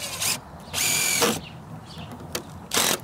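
A power drill drives screws into wooden shed framing in several short, whirring bursts of varying length, close by and loud, separated by brief pauses.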